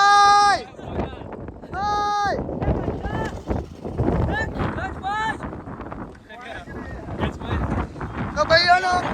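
Strong wind buffets the microphone outdoors on a trip to Dwarka, producing loud, low rumbling gusts that rise and fall beneath people talking throughout.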